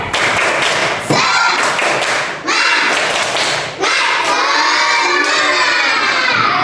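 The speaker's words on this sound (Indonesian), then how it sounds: "Kita tepuk semangat dulu nih. Tepuk semangat." Elementary schoolchildren in a classroom perform a rhythmic spirit clap, loud group claps and thumps in patterned bursts with brief pauses, mixed with excited shouting and chanting voices close by.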